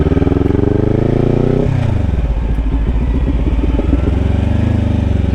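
Motorcycle engine running close and loud, its pitch dropping and then settling into a steady, chugging beat as the clutch is let out slowly and the bike eases into first gear.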